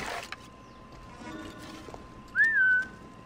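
A single short whistle rises and falls in Assassin's Creed Origins, clear against a quiet, faint game ambience after a few soft clicks.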